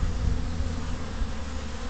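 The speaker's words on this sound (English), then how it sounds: "These bees right here are kind of talking to each other a little bit" Honeybees buzz steadily at a hive entrance on a warm fall day, a close, continuous drone that is loud and unbroken, with no voices heard.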